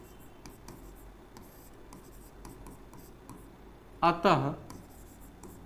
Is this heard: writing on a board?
yes